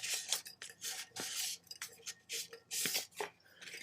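Sandpaper rubbing along the rim of an epoxy tumbler cup, quick dry scratchy strokes in short irregular bursts, close but fairly quiet, no voices.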